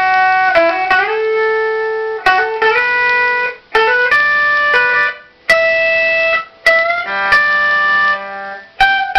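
An electric guitar plays a solo, with clear sustained notes, slides and hammer-ons in short phrases separated by brief gaps, loud and close.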